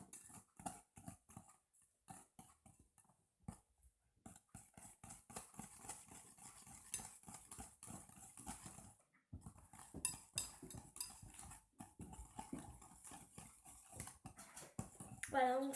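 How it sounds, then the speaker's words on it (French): A wire whisk beats yogurt cake batter in a bowl, a rapid run of dense clicking taps against the bowl that stops briefly and resumes, carrying on steadily at close range. "Et je vais le prendre avec mon fouet."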